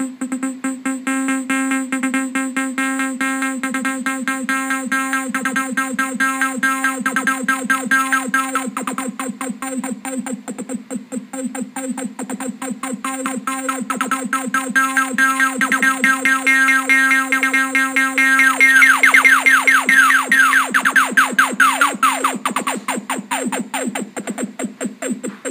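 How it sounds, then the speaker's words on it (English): Arduino-based synth sequencer playing a ramp waveform through a resonant low-pass filter, a steady repeating electronic pattern with buzzing harmonics and sweeping filter resonance, loud and continuous with no voices. "What's interesting about this one is that it has a resonant low-pass filter."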